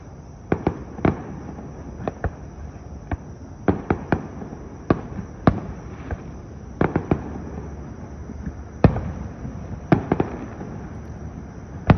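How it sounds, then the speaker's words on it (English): Fireworks going off outdoors at night, a series of sharp, irregular bangs and pops of varying loudness, some spaced out and some in quick clusters, heard from a moderate distance. "watch the fireworks"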